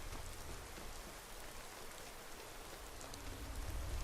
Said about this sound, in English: the light rain is... I kind of like this.